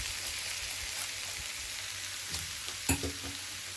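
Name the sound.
rice added to frying pan for egg fried rice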